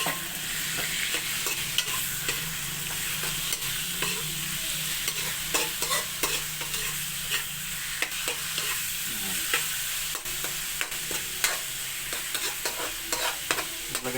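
Chicken breast sautéing in a pan for Valenciana gives a continuous close sizzle, broken by frequent clacking and scraping stirs of the utensil throughout.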